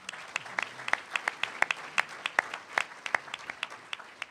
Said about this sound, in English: how about a round of applause for Robin?